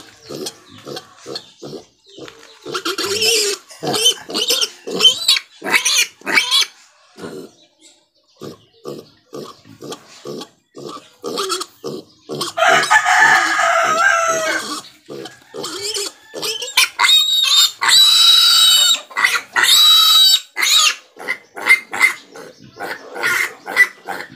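A pig squeals loudly and repeatedly while being castrated, in a long series of sharp, harsh cries broken by short pauses, with some longer screaming bursts near the middle and end.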